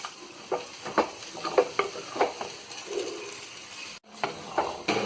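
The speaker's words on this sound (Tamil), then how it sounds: "கைவிடாமல் கிளறிட்டே இருங்க" A spoon stirs a thick peanut and bottle gourd gravy in a pan, with repeated scraping strokes in an irregular rhythm over a soft, close simmering sizzle and a brief pause near the end.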